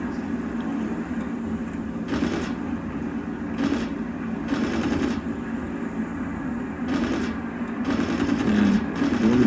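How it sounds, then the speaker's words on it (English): Fighter plane machine guns in the combat flight game Birds of Steel, firing in several separate bursts of rapid rattling over a steady engine drone, each burst lasting about half a second. "I'm wasting an awful lot of shots just trying to get any hit on him at all"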